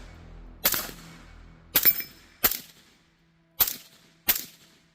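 Five sharp, loud gunshots from a short 11.5-inch AR-15 fighting rifle at a shooting range, fired in uneven bursts with brief ringing decay and quiet gaps between them.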